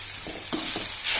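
Drumstick thoran is stirred in a pan, a brief close scrape and shuffle over a soft hiss of cooking, two or three quick strokes with no voices.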